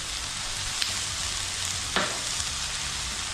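Garlic and pepper fry in a pan with a steady, close sizzle and a few soft stirring clicks, with no voices.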